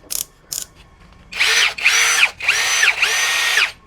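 An APR AP34+ cordless impact drill whirs in short bursts: two brief blips, then three longer high-pitched runs, each rising and falling in pitch, close and fairly loud.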